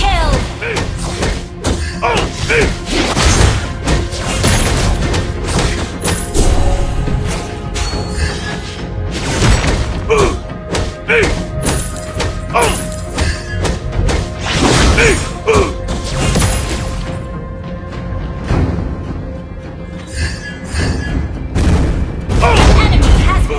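Explosion as a turret is destroyed in the Mobile Legends mobile game: repeated heavy thuds and crashes in a busy, loud mix of battle effects, with game announcer voice lines over the top.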